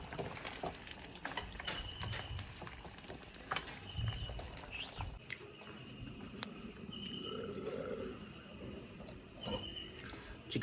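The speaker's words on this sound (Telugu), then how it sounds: "ఇప్పుడు చికెన్ ఫ్రై చేద్దాం." Chicken fries in a pan with a steady crackling sizzle, with occasional metallic scrapes and clinks of stirring, close and continuous.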